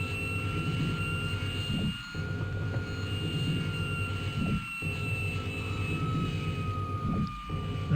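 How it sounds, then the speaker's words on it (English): A Gloster Meteor F Mk 8 jet engine starting in Flight Simulator 2020 hums and whines steadily, with high tones slowly shifting over a low rumble and brief dips in the drone at intervals. "We're gonna press Ctrl and E, and you hear the engine starting."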